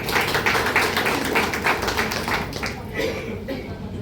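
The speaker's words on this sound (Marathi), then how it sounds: "त्यांच्यासाठी पुन्हा टाळ्या वाजवा" An audience applauds at the 67th birthday celebration for Shivajirao Shimpi, a dense burst of clapping that thins out after a couple of seconds.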